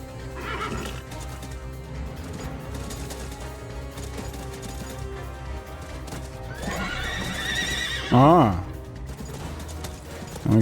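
A horse in the video game Call of Juarez whinnies loudly in a rising, wavering cry amid a busy background of clopping hooves and clatter, followed by a brief snort.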